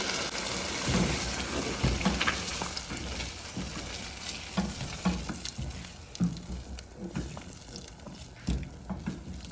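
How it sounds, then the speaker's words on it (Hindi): Chickpeas poured with their water into frying masala in a pan make a soft, steady sizzle and bubbling, broken by light stirring clatters, fairly quiet and with no talk. "तो हम इसमें चने डाल देंगे"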